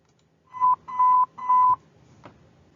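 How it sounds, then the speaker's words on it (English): Three clipped electronic alert tones sound in quick succession, loud and clean against a quiet background, followed by a faint click, signaling a special weather announcement on a county public safety radio system. "four beeps for special weather and other type"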